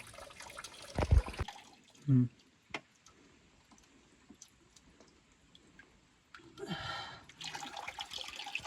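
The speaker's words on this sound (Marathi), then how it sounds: "आपण पाण्याच्या टाक्याजवळ थांबलेलो आहोत आणि आता आपण पाणी घेऊयात पियाला" Water is scooped and poured from a stone water tank at a hilltop fort. There are a few splashes and sloshes, sharp drips in between, and a rush of water near the end, with people talking close by.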